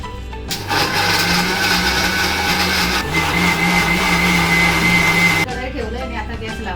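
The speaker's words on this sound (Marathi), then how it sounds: "आता सगळा मी वाटून टाकतो" A mixer grinder grinds onion, coconut and fish for a Malvani fish chutney, a loud, steady whirring roar that starts abruptly and runs for about five seconds before cutting off, with no talk over it.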